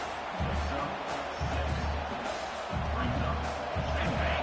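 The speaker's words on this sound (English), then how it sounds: "the crowd coming to life here, trying to help this defense down in the red zone." A football stadium crowd in a college game roaring to back the defense in the red zone, a broad steady swell of cheering with rhythmic low surges, while a commentator talks over it.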